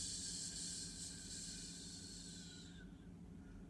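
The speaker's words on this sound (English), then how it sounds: "Exhaling through pursed lips." A slow, steady exhale through pursed lips during a qigong and Pilates breathing exercise, heard as a soft continuous airy hiss close up that lasts nearly three seconds and then fades out.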